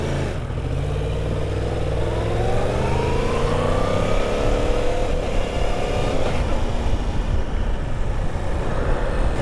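A 1000cc motorcycle engine under way on a ride, a loud, close engine note rising steadily in pitch as it accelerates, with rough low rumble and wind beneath.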